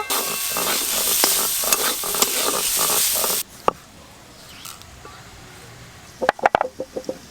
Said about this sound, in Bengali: আলু ফুলকপি ভাজতে ভাজতে সেদ্ধ হয়ে গেছে